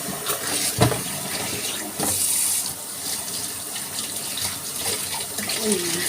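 Cold tap water runs steadily in a kitchen sink while dishes are rinsed, a continuous splashing wash with a few brief clinks and bumps, fairly close.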